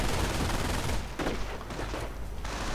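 Dense gunfire fills a World War II strategy video game battle, a continuous loud fusillade of rapid shots that thins slightly midway, with no talk over it.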